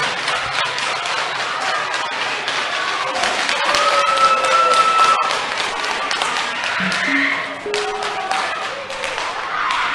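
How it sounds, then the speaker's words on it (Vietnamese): Arena crowd applauding between rounds two and three of a Muay Thai bout at a ONE championship event, a steady wash of clapping and crowd noise lasting throughout with some whistles and faint voices mixed in. "Hãy cho một tràng vỗ tay để cổ vũ sự nhiệt tình, sự cống hiến của hai võ sĩ"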